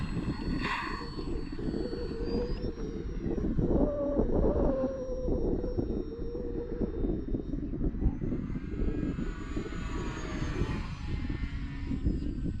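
A small electric E-flite Valiant RC model plane whines steadily overhead on its first flight, its motor pitch rising and falling as it passes, with continuous airflow noise throughout.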